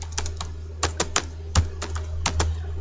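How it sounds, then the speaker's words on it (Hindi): Computer keyboard keys being typed in short irregular bursts, close and clear, with a steady low hum underneath and no talking. "तो यहाँ पर मैं लिखता हूँ विकी सचदेवा।"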